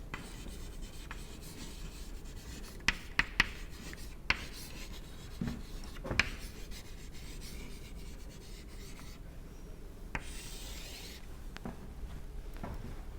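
A lecturer writing thin-film dynamics equations by hand, a steady soft scratch and rub of pen on a surface with occasional sharp taps, close and quiet, and no one talking.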